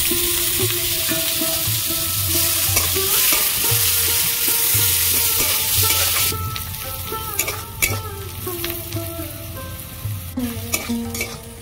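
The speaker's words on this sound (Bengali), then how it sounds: "ফোড়ন হয়ে গেছে, পেঁয়াজ কুচি দিয়ে দেবো।" Chopped onion hits hot mustard-style fish-frying oil already tempered with bay leaf, dried chilli and whole cumin, sizzling loudly and continuously up close, with scraping stirs and clinks of a utensil against the pan.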